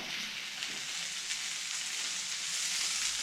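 Leafy greens hit a hot pot with burnt marinade and set off a steady, bright hiss of frying. The sizzle holds evenly throughout, close and alone, with no voices.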